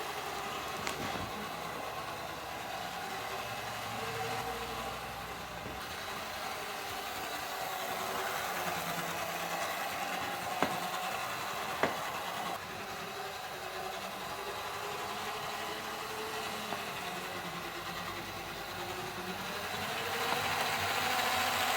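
A Hornby model diesel DMU train, once burnt out and now repaired, runs steadily along its track with a continuous motor whir and faint rail clicks, fairly quiet and unbroken throughout.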